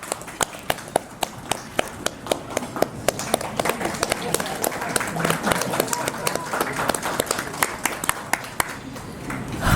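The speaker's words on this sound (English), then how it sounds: "Please give a round of applause." An audience at a professor's retirement function breaks into sustained applause, a dense, loud patter of many hands clapping with sharp individual claps standing out throughout.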